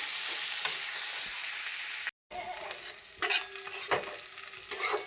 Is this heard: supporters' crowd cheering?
no